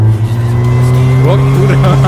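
A car engine in the video game My Garage drones steadily and loudly, revving up as it accelerates, with rising whine tones and a hint of tire squeal layered over the sustained hum.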